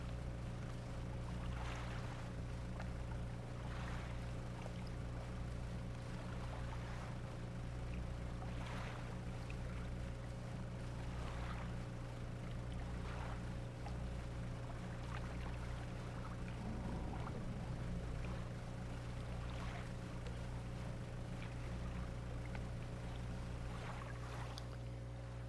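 Small boat engine on open water, a low steady drone at slow speed, faint and continuous with soft water and wind sounds over it throughout.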